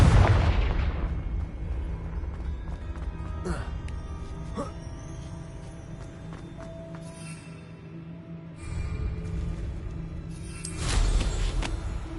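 Confringo blasting curse cast in Hogwarts Legacy: a loud booming explosion right at the start, a lingering rumble with music underneath, then a second bright blast near the end.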